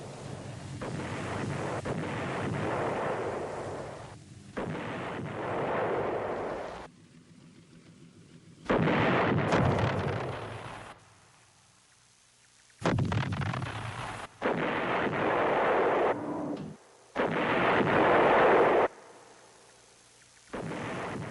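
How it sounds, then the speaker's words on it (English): Artillery fire in the battle for the Khe Sanh combat base in Vietnam, a series of heavy booming bursts separated by quieter gaps, each rumbling and sustained for a couple of seconds, with wind noise underneath. "Every night, the Marines laid down concentrated patterns of fire on the likely areas."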